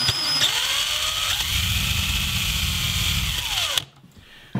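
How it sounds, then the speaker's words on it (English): A power drill with a Vix self-centering bit whines steadily for several seconds drilling a hinge hole in a wooden chest lid, its motor pitch dipping slightly as the bit bites, then stops abruptly, leaving quiet. "Now I'm using a VIX bit, and that helps to make sure that you drill your hole right in the center."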